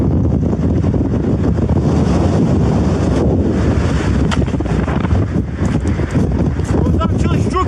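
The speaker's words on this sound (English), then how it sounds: "The wind behind that wall sounds absolutely ruthless." Strong wind on a mountain hike roars and buffets the microphone continuously, loud and close, with brief speech-like sounds partly buried in the gusts.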